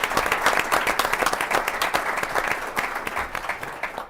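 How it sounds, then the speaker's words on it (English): A civic-forum audience applauds panelists after a panel discussion on concussions in youth sports, steady dense clapping filling the room throughout, loud and sustained without pause. "Can we get a round of applause, please?"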